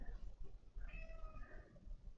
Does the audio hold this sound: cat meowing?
yes